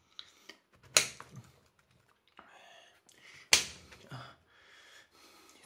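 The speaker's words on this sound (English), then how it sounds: "You need a sharp knife to cut the mushroom because it's obviously massive" A sharp knife cuts through a massive, hard mushroom, giving two crisp, close slicing cracks a few seconds apart with quieter scraping and handling noises between them.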